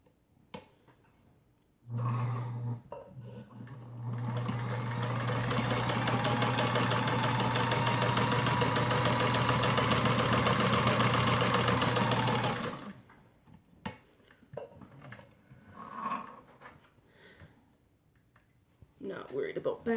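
A sewing machine stitches the hems of a cloth mask in one long, steady, close run of about ten seconds with a low motor hum. Brief handling sounds and talk come before and after it.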